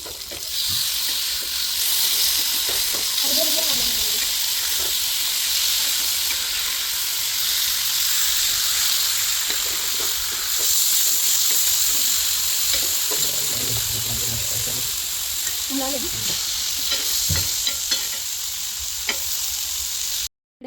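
Fish pieces frying in hot oil in a pan give a steady, close, loud crackling sizzle that runs without a break, with a few faint clinks and shuffles of cookware. No one speaks.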